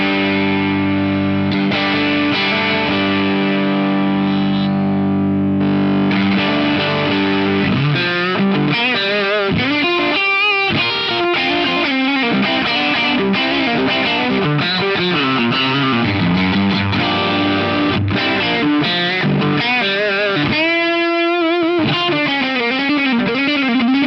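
An electric guitar plays through an FM3 compressor block with the level cranked into stacked drive pedals, giving a loud, sustained, distorted tone of ringing chords and single notes with no voices.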